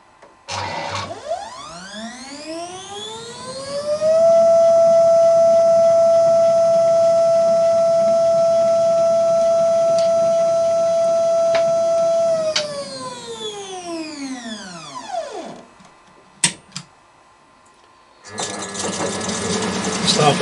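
A CNC lathe carriage drives to its home position: a close stepper-motor whine sweeps up in pitch, holds steady for about eight seconds, then sweeps back down, followed by a few sharp clicks and a burst of broadband noise.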